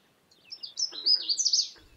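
A Canada warbler sings a short, bright burst of rapid, jumbled chirping notes, clear and fairly close, on its own against a quiet background.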